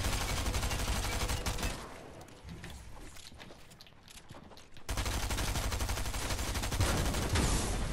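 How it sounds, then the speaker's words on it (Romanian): Rapid bursts of video game gunfire, including a shotgun, crackle loudly for nearly two seconds, drop to a quieter stretch of scattered shots, then surge back into dense, continuous firing. "Mai tragi mult în mine, bro."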